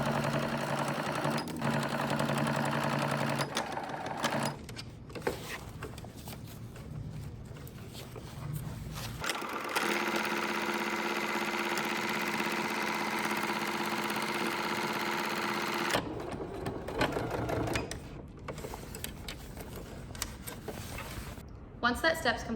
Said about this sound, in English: I also added a second stitch about 1/4 inch over from the first stitch just for decorative purposes